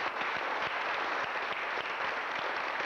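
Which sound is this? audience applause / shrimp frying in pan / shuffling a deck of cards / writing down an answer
audience applause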